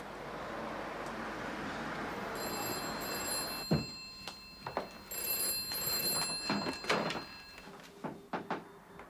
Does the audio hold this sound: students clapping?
no